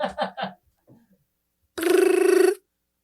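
A telephone rings once in a single loud, close burst of trilling bell-like tone, lasting under a second. Voices are heard first, then a short silence before the ring.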